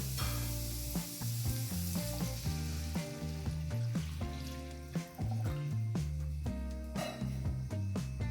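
Water hits a hot pan for semiya upma and sizzles loudly, a dense crackling hiss that continues steadily, with no talking.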